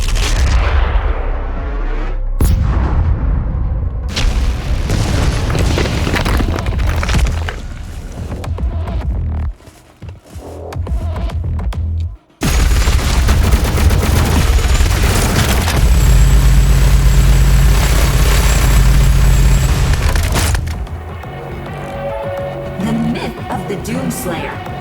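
Gunfire, booms and heavy explosions from the shooter game Doom Eternal, a loud, dense barrage of blasts and weapon fire running almost continuously with brief drops, layered over a thick game soundtrack.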